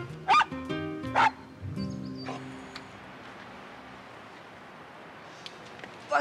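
A dog gives two loud, sharp barks close by near the start, followed by quieter rustling and background noise in an indoor crime-drama scene, with one more brief yelp at the very end.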